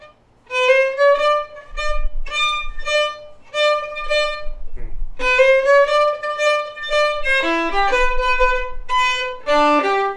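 A jazz violin plays a bright, bowed melodic line with short, lightly touched ghost notes mixed among clearer sustained tones, played alone and close.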